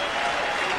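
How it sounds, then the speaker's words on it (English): A boxing crowd at Caesar's Palace rises in a standing ovation after a middleweight fight, producing a dense, steady wash of applause and cheering that fills the whole moment without a break. "The crowd comes to the stage. Standing ovation, Tim."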